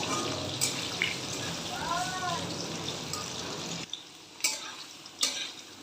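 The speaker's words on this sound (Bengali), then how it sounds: "এবার আমি এখানে টুকরো করা আলুগুলো দিয়ে দিচ্ছি হালকা লালচে করে নেব" Chopped potato pieces frying in a pan with spices, a steady soft sizzling hiss with some stirring that cuts off partway, followed by a few light clinks of a utensil against the pan.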